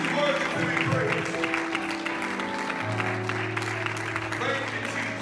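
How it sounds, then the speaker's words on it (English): A worship congregation claps along during a Sunday church service, the clapping mixing with music and singing voices throughout at a steady, moderate level. "Somebody clap your hands to the Lord"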